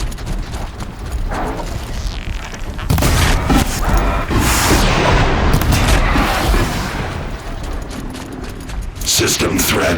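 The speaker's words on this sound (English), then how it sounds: "grenades!" Grenade explosions in the Horizon Zero Dawn video game, a dense stretch of loud booming blasts and crackling combat noise that swells midway and continues with mechanical clatter, with voices heard over the action.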